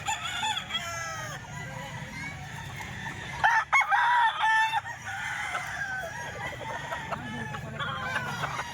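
A red kelso gamefowl rooster crows repeatedly nearby, with other roosters crowing and clucking around it in a busy farm yard.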